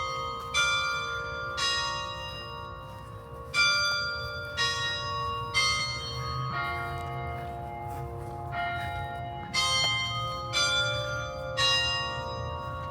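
Large church bell at the Cathedral of St. John the Evangelist in Louisiana tolling repeatedly in a steady rhythm, each strike ringing out with long overlapping resonance over low outdoor rumble.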